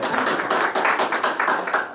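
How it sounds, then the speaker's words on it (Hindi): A group of people clapping hands in quick, uneven rhythm for about two seconds, moderately loud with a faint voice underneath. "ताली बजा दो"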